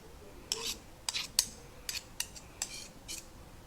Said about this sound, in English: If you have a knife, which I do, you can scrape off your spoon